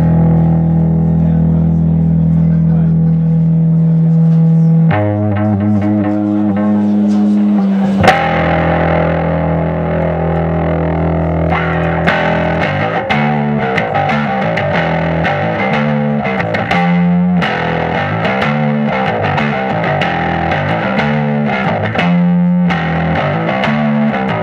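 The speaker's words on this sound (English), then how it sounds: "Get your nice beefy overdrive kind of a sound." A bass guitar played through a Fender Rumble amp with overdrive gives a thick, distorted tone. Sustained notes at first give way to a busy, rhythmic line of plucked notes, loud and steady throughout.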